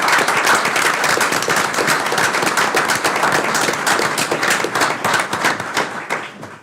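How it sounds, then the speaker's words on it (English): A large standing audience at a board of trustees meeting applauds loudly and steadily, sharp claps blending into a thick roar that begins to fade near the end. "I invite you to join me in acknowledging them with a round of applause."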